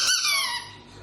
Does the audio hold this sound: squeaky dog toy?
yes